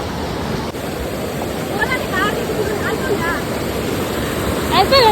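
A waterfall rushes as a dense, constant roar close by, with faint voices and brief whistling sounds mixed in over the steady wash.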